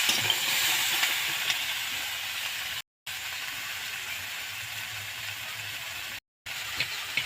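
Lentil dumplings (bori) fry in a pan and are stirred, giving a continuous close sizzle and hiss with soft scraping and no talking.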